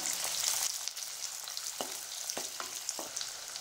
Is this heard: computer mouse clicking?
no